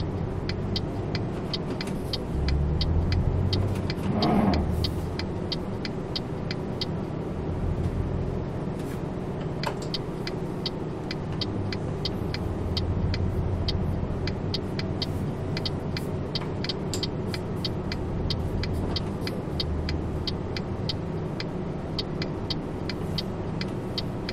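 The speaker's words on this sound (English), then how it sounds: "And off we go on our trucking journeys." Steady engine drone of a truck driving in a trucking video game, a continuous low hum with little variation and a brief surge early on, heard alone with no talk.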